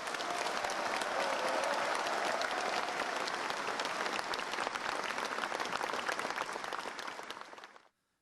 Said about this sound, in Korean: 힘찬 박수를 부탁드립니다.